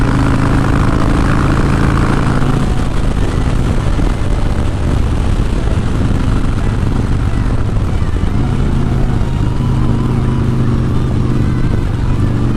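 A loud, rumbling Harley-Davidson V-twin motorcycle engine runs steadily throughout, with a deep low-end drone and shifting revs, close and continuous.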